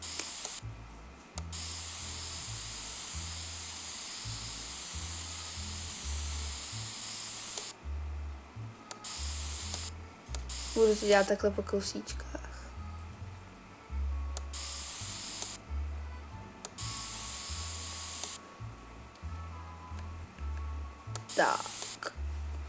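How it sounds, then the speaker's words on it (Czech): Repeated bursts of aerosol spray painting in The Sims 3 game, steady hissing runs of a few seconds each with short gaps between, while a person talks over them. "Neumím sprejovat."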